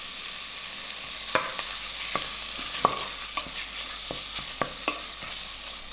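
Coconut milk bubbles in a pan for an Indonesian yellow curry, giving a steady close sizzling hiss scattered with small sharp pops and spits.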